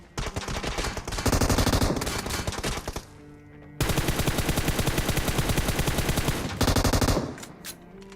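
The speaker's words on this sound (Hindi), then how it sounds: "अब जैसे हम यहाँ पर आए तभी सामने से फायर हुआ" Gunfire in PUBG Mobile rings out in long, rapid automatic bursts. Two extended volleys are separated by a short pause, with a final brief burst and scattered shots trailing off. The shots are loud and close, with no talking.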